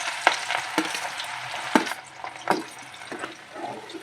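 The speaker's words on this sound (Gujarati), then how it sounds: "લસણનો વઘાર મારી દઈશું પહેલાં" Garlic sizzles as it is tempered in hot oil for Manchurian gravy, crackling and spitting with sharp pops and bursts over a steady frying hiss, close and fairly loud, with no voices.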